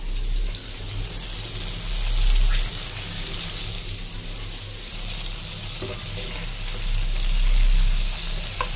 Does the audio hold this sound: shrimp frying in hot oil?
yes